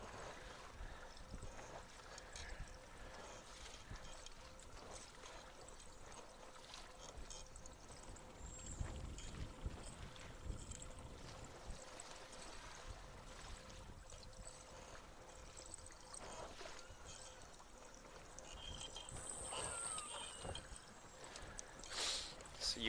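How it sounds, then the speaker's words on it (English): Underwater hydrophone pickup beneath a beluga-watching boat gives faint, irregular creaks and knocks from the hull over a low wash of water noise, quiet and continuous throughout. "you can hear that familiar creaky boat noise on the hydrophone below."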